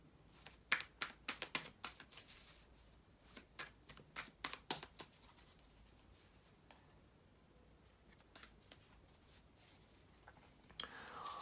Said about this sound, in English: Just let me shuffle them